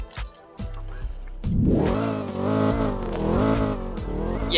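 A 2012 Chevrolet Camaro ZL1 engine revs loudly, with a few short blips before a sustained rising and falling roar that holds close and strong to the end.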